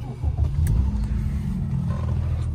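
The air-cooled flat-six of a 1997 Porsche 993 911 Targa runs nearby with a steady, smooth low rumble and a slight swell in engine note.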